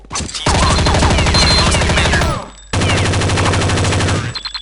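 Loud rapid automatic gunfire bursts in the video game Counter-Strike: Condition Zero, two long sustained volleys split by a brief pause, close and dominant.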